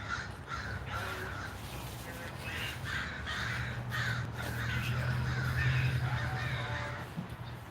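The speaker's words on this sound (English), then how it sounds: "Listen to the crows." Crows cawing as they come in to roost, repeated harsh caws from several birds at a moderate distance, overlapping and continuing throughout, with a steady low hum and faint voices beneath.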